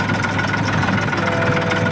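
Tractor engine running steadily at close range, a continuous low idling rumble with slight knocking vibration, no voices.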